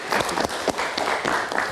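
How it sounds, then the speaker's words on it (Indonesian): A live studio audience at a talk show applauds after a film teaser, a brief, fairly loud spell of many hands clapping with distinct individual claps standing out. "Kita kasih tepuk tangan."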